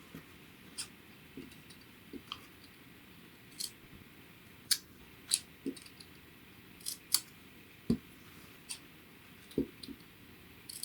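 Sharp dressmaker shears clip into a sewn fabric seam along a neckline facing, giving a string of about a dozen crisp, close snips at an irregular, unhurried pace over quiet room tone with no talking.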